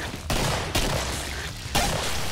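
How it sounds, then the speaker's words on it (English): Three sharp, loud gunshots in the zombie shooter Killing Floor, each a heavy blast with a lingering tail, fire at uneven intervals with no talking. "Demonstrate taking him out at a distance with a headshot"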